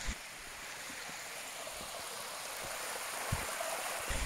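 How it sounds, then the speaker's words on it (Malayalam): Stream water flows steadily through an Omani mountain village, a continuous broadband rushing and babbling that holds an even level throughout, close by and without speech. "ഈ കാണുന്ന വെള്ളം ഹോർവേയിൽ നിന്ന് വരുന്ന വെള്ളമാണ്"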